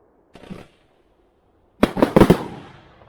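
A small pop, then a loud rapid cluster of firework battery bangs from an Iskra "Napad" in quick succession, booming close by and trailing off into a fading rumble.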